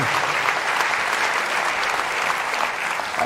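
Sustained applause fills a large hall during a live talk on saving soil, many hands clapping in an even, dense stream that carries on from start to finish.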